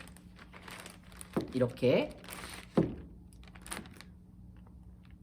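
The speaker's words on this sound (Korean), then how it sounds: "목사님이 선택한 방법은 이 지퍼백이었어요" A plastic zipper bag holding a diffuser is crinkled and pressed shut in a few short, close bursts of rustling, with a voice speaking briefly and quiet room tone between.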